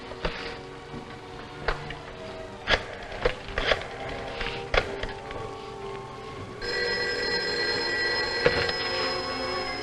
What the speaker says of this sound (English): I'm going to call you on this other phone.